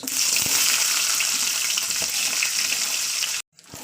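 A whole onion sizzles in hot oil with whole cumin seeds, a loud, close, continuous frying crackle with faint stirring clicks, ending abruptly.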